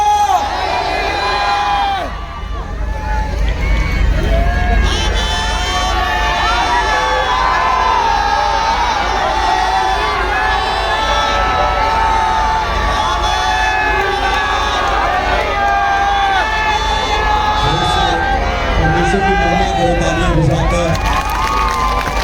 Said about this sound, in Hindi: तालियां बजाते हुए हालेलुया ऊंचे स्वर से पुकारते जाए ऊंचे स्वर से हालेलुया, हालेलुया